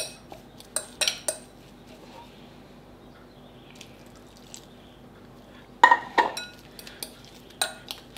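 A spoon working through mashed potatoes and milk in a pot, making scattered scraping clinks against the metal between quiet pauses, with a louder cluster of knocks near the end.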